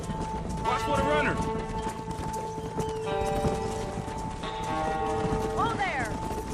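Horse hooves clip-clop at a gallop on open pasture in Red Dead Redemption, with whinnies and cattle calls mixed in and game voices talking over the rhythmic hoofbeats.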